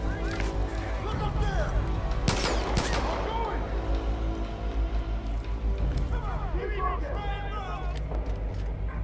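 Far Cry 5 gunfire crackles in bursts over constant game background noise, with a heavy volley early on, while someone talks at points.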